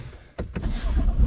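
A car engine cranks and starts once the immobilizer is switched off: two quick clicks or turnover bursts, then a steady low idle rumble, close by with no talk.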